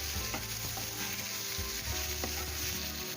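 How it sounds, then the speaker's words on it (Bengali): Onions and potatoes fry in mustard oil in a wok, producing loud, constant close-up sizzling with soft stirring scrapes mixed in and no voices. "পেঁয়াজটা একটু লাল লাল হয়ে এলে আমরা আলুগুলো দিয়ে দিচ্ছি। আলুগুলো এখন ভালোভাবে ভেজে নিতে হবে।"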